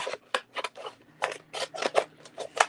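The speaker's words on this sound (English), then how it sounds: "I'm also going to just sort of snip off this bit here." Scissors snip off a scrap of vinyl during a Cricut crafting session: a quick run of about a dozen crisp, close cuts in an uneven rhythm, with no voices.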